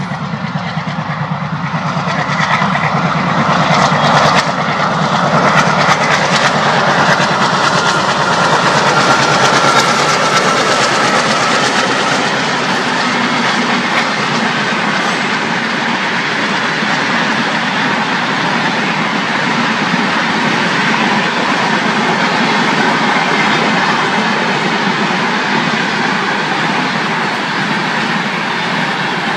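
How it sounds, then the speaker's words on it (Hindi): An Indian Railways Humsafar Express passes near Bikaner, making a loud, steady roar of rolling wagons with continuous rumble and rail noise throughout. "तो ये सबसे खूबसूरत ट्रेन है हम सफर"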